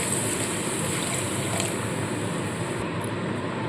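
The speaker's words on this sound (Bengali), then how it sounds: "পরিমাণ মতো জল দিয়ে দিচ্ছি" Water poured into cooked spice masala for fish rezala, a steady rushing splash that runs unbroken and fairly loud, close by, with no voices.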